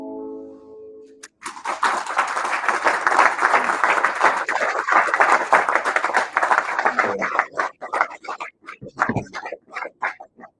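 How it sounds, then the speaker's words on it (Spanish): Audience applause bursts out after a musical performance at a human rights and democracy event, loud and dense for several seconds before thinning into scattered claps, with a brief voice near the end. "que se haga sentir un fuerte aplauso a tremenda"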